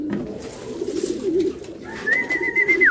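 Racing pigeon at a loft during a derby race return, low cooing murmurs through the first half, then a steady higher tone with fluttery bird sounds toward the end, close and moderately loud.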